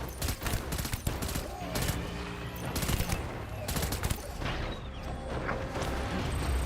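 Heavy-recoil gun firing in Death Stranding, a string of loud sharp shots spaced irregularly across the moment, mixed with mechanical clanks and creaks and someone talking over it.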